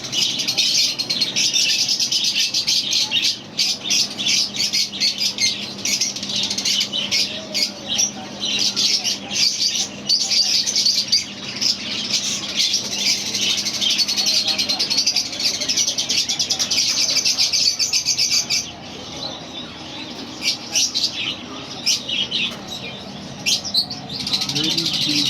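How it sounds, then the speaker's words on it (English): Caged birds for sale at the Souq Waqif street market in Doha, Qatar, chirping and squawking densely and continuously, with occasional wing flutters and market bustle in the background. "The birds are caged and being sold."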